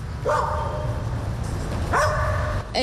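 Dogs at a canine show bark in a few sharp, close bursts, including a high yelping cry, over a busy background murmur.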